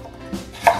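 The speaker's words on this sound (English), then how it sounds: "You cut it in lengthwise" A knife cutting burdock root into lengthwise strips on a board, two close, crisp chops about a third of a second apart, the second louder, with no speech.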